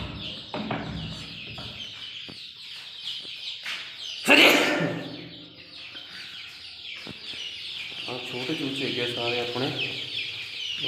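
Several chickens and large chicks cluck steadily close by, with overlapping calls and soft chirps, and a sudden loud rattling clatter cuts in briefly partway through.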